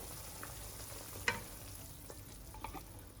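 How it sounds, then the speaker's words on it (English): Kung Pao shrimp sauce, thickened with cornstarch, bubbles and sizzles quietly in a pan while a utensil scrapes and stirs, with a couple of small clinks along the way. "the sauce is boiling already. Give it a light stir."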